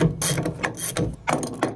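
A ratchet works a corroded, badly pitted bronze nut in and out while an old boat diesel engine is being removed, giving several quick, close bursts of clicking.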